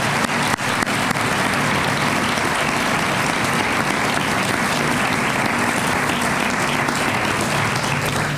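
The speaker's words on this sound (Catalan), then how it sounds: "I demano, sisplau, un aplaudiment per elles, que són qui fan la revista." Audience applause at an awards ceremony honouring the magazine staff, a dense, steady clapping from a full hall that holds strong and even for about eight seconds with no voices over it.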